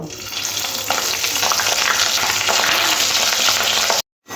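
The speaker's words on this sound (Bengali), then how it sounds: "মাছের ডিমগুলো তেলের মধ্যে দিয়ে ভেজে নেব" Fish roe frying in a pan of hot oil gives a loud, steady, dense sizzle with bright crackling spatter. It carries on without a break for about four seconds, then cuts off abruptly.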